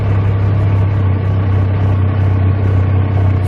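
A Yamaha YXZ1000R side-by-side crawls slowly on flat ground, its engine holding a steady low droning idle-like hum with a constant, even tone and no revving throughout.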